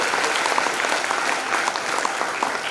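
An audience at a hypnotherapy talk in Pune applauds with a steady wash of clapping throughout, fairly even in level and close by.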